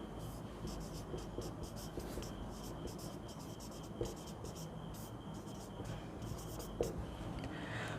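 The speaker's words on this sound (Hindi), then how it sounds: "आने वाली संख्या को लिखते हैं।" Pen or chalk writing numbers, a faint rapid scratching in short bursts over a constant background hiss, quiet and close, without talk.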